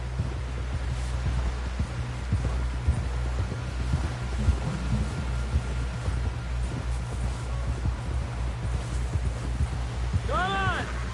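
Steady clip-clop of horse hooves at a brisk walking rhythm in Red Dead Redemption 2, over a low rumbling hum, with a short rising-and-falling tone near the end.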